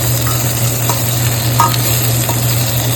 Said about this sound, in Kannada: ಈರುಳ್ಳಿ ಮತ್ತು ಗಾರ್ಲಿಕ್ ಪೇಸ್ಟ್ ಹಾಕಿದ್ದೀನಿ ಎಣ್ಣೆಗೆ